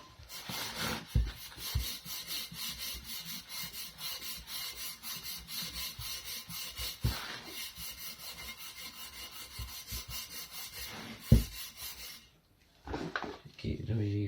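A green abrasive pad scrubs the inside of a wheel rim kept wet with WD-40, making a steady run of rapid, close rasping strokes that stops near the end.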